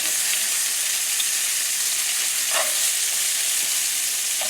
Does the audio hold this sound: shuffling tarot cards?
no